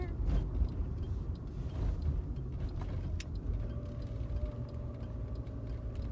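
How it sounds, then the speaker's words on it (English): Traffic on a road, with cars rolling past at moderate distance as a steady broad rumble, and a faint engine tone rising near the end. "Sorry, there are cars coming"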